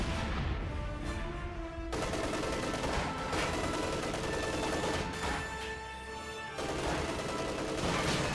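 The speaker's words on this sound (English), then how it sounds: "reposition and start firing on this position" Gunfire in a tabletop-style video game battle, dense overlapping rifle and machine-gun bursts with booming impacts under a continuous loud layer of game music and effects.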